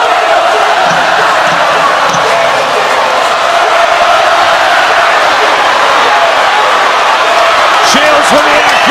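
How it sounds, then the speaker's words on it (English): A packed boxing arena crowd roaring and cheering loudly and continuously during a late round of a women's title fight between Claressa Shields and Savannah Marshall, a dense wash of noise with brief shouts near the end. "Listen to the crowd."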